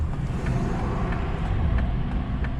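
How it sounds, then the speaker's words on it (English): Road traffic rolls past on a route in Michigan's Upper Peninsula, a continuous low rumbling car noise close by, steady throughout with no talk. "there's just enough traffic to get on your nerves."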